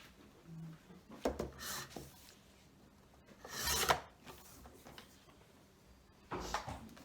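Paper scrap being trimmed for a creative journal page, a few quiet, brief rasping cuts and rubs in short bursts, faint and close.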